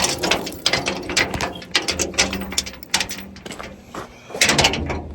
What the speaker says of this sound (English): And we latch them over here.